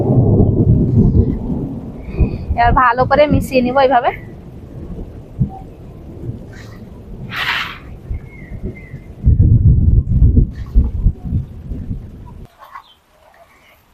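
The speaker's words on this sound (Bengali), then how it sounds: "আর বৃষ্টি দেখেন জোর চলে এলো এবার আর মেঘও ডাকছে কেমন দেখেন" Deep thunder rolls in repeated low rumbles over rain while someone talks nearby, and a bird chirps briefly partway through.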